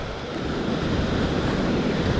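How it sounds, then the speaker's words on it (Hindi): A rushing waterfall with fast-flowing water on a mountain route from Kishtwar to Sinthan Top gives a loud, steady broadband roar that never lets up, with wind buffeting the microphone. "सामने है बहती हुई झरना जहाँ से मुझे निकलना है। पानी का बहाव बहुत तेज़ है"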